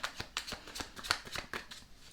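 Tarot cards shuffled by hand in a quick, regular run of crisp riffling snaps, close and fairly quiet, with no talking over them.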